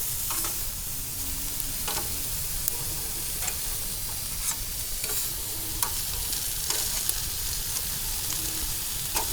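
Chicken cooking on a hot surface sizzles in a steady, dense hiss, close and constant, with occasional sharp pops and light scraping ticks scattered through, no talking.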